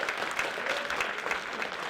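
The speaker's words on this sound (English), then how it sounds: "I want everybody to give a round of applause for Tim Starr for all his help." Steady applause from a convention audience at a fan gathering, sustained dense clapping filling the room with no pause, fairly loud and alone without speech.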